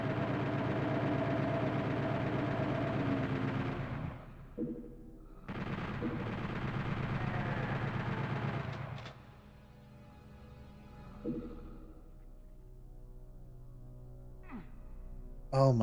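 Chaingunner enemies rattle off sustained bursts of chaingun fire in Doom 2 on the PS1, a dense continuous mechanical roar in two long bursts, followed by quieter echoing game ambience and a few faint blasts.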